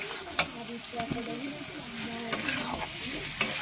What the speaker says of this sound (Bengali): এবার আমি এই আলুগুলো দিয়ে দেবো। দিয়ে আবার কষিয়ে নিচ্ছি।